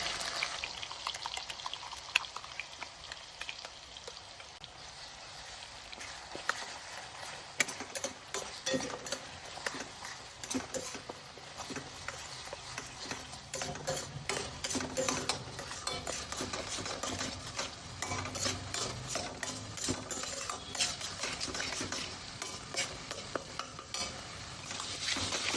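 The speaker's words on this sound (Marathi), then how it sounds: "आता आपण हा वाटण केलेलं तेलामध्ये छानपैकी फ्राय करूया" Ground masala paste fries in oil left over from frying fish, giving a dense, continuous crackle and spatter with occasional stirring clinks, steady and moderately quiet throughout.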